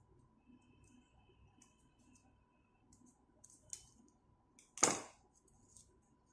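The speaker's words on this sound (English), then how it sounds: "You have to fold it 3 times and then with the help of scissor cut it." Scissors make a single sharp snip through folded paper in an otherwise quiet room, preceded by faint light ticks and rustles.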